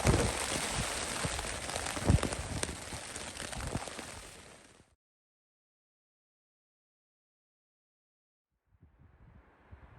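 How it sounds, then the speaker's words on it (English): Rain drums steadily on a hammock tarp in the mountains of the Wind River Range, a dense, loud patter that stops abruptly and is followed by silence, then faint rain noise returns. "Raining pretty good right now."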